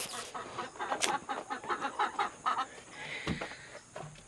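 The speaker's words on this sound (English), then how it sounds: "Let's go let the chickens out." Several hens cluck in short, scattered bursts, fairly close, with a steady high hum and some shuffling in the background.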